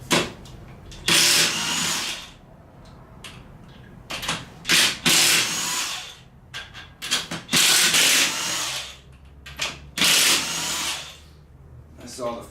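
A power tool spins out LS engine bolts with a socket in repeated loud whirring bursts of one to two seconds, separated by short pauses and small clicks, heard close up.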